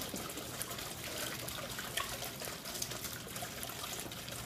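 Water trickling steadily through an aquarium filter with a filter pad in a goldfish tank, a constant close, broadband splashing wash with no talk.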